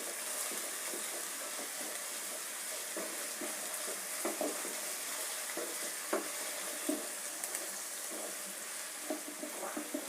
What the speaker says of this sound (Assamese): অলপ দেৰি মই ভাজি ল'ম এইখিনি